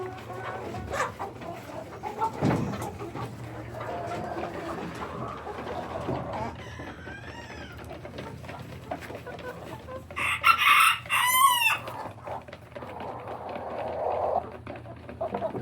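A swarm of chickens at feeding time, with steady clucking and low murmuring from the flock, and louder squawks and a crow breaking through partway, close by.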